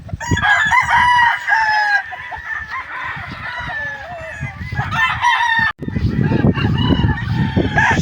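Chickens in farm holding pens cluck steadily close by while a rooster crows several times, a busy, continuous barnyard chorus.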